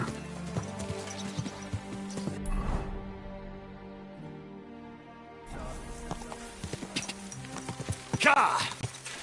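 Horse hooves clip-clop in a steady, even rhythm in the medieval video game Kingdom Come: Deliverance, close and moderately loud, with game ambience running underneath.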